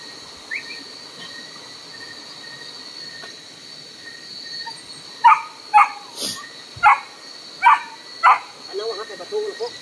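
A dog barks a run of about six sharp, evenly spaced barks over a quiet background with a steady high tone, followed by a brief voice at the end.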